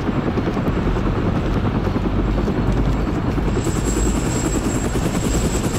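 A helicopter in the video game Rainbow Six Vegas chops and roars loudly and continuously, close and steady, filling the whole stretch with dense rotor noise.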